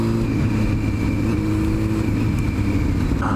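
A donk car's engine revving nearby, a loud, continuous low harmonic drone with a steady whine above it, holding throughout.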